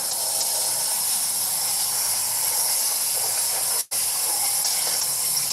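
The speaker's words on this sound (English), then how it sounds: "You got to douse it in hot water to get it to open up." Hot water gushes over an iced motorized screen in a steady, loud, hissing pour, cut by a brief break near the end before the flow resumes, with no voices.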